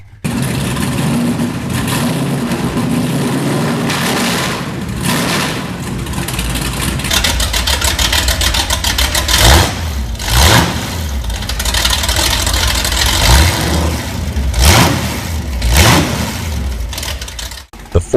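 A 440 big block Mopar V8 rumbles at idle, then is revved several times, its pitch sweeping up and falling back in repeated surges, close and loud throughout.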